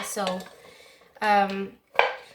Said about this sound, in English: I've given it a stir and then it's all coated in the oil